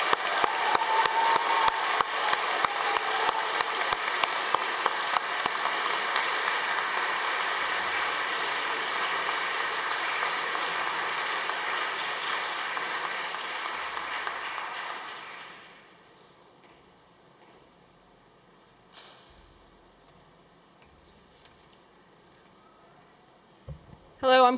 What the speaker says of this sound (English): I'd like to request one more last round of applause for our newly white-coated